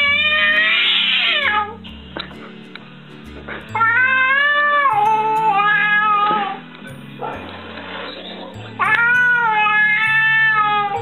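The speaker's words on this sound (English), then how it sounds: "My cat does not like it. Boy, he's pissed." An unhappy cat yowls loudly and close by in three long, wavering caterwauls separated by short pauses, each drawn-out and rising and falling in pitch, heard alone without talk.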